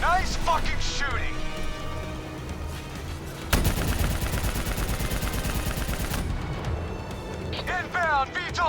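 Sustained heavy gunfire in Call of Duty: Black Ops III, dense rapid bursts with a thick automatic stretch in the middle, loud and close, with a voice calling out over the shooting.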